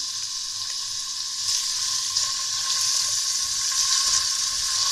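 Chicken, 200 grams, frying in oil in a pot, giving a steady, loud sizzle that swells slightly after a second and holds at a constant hiss with no voices.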